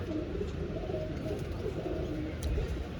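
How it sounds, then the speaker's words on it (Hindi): Low, soft cooing of a pigeon repeats close by over a steady murmur of background noise. "एक और कबूतर आ गया"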